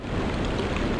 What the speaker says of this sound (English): I like that water sound.